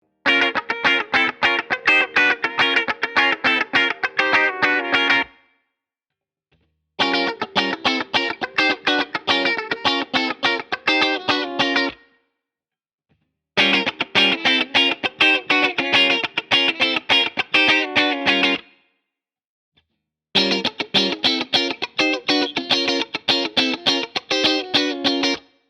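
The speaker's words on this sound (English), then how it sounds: "we'll hear what a humbucker normally sounds like, and then we'll start splitting it" Electric guitar strummed through distortion and effects in four loud phrases separated by short silences, first on a humbucker pickup and then with the coil split, each burst a dense run of rapid chord hits.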